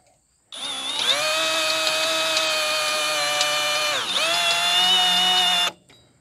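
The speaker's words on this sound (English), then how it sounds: "I'm going to center drill this." A power drill whines steadily while center drilling metal for a tractor bucket hook for about five seconds, pitch dipping briefly midway as the bit bites, then stopping abruptly.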